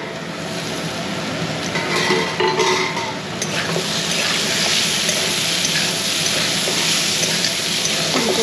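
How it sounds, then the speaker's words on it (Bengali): Cauliflower and potato fry in a home kitchen pan: a sustained broad sizzle with stirring scrapes and occasional clinks of cookware throughout, without talk. "ফুলকপি আলু ভাজা হচ্ছে"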